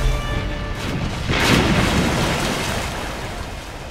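Cannon fire and explosions from the naval game Ironclads II: a broad, rumbling boom swells in the middle and rolls away over steady noisy background, with no talk.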